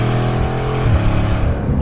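A Bugatti Chiron's W16 engine pulls hard on boost under full throttle, a loud, steady deep engine roar heard from inside the car with a brief shift in pitch partway through.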